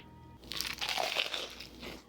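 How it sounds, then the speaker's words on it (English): A crisp, crackling bite into crispy Korean fried chicken, heard close to the mic. A burst of crunching fades into quieter crackle, with no talking. "I'm gonna do another crunch."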